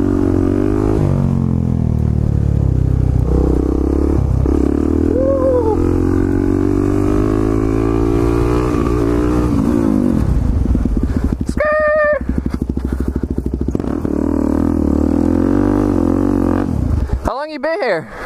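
A pit bike revs hard while riding wheelies on a strip, its engine rising and falling outdoors as people talk and shout loudly over it throughout.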